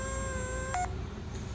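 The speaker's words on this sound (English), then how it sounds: "you would hear that wispy noise for about 1 second, then it would beep, indicating that it's activated" A Quadstick mouth-operated game controller gives a single short electronic activation beep after a one-second sip, heard briefly and clearly over a steady low background hum.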